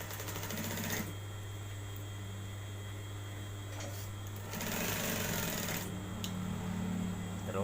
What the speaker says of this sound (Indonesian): Jaraknya 1 sepatu kita jahit.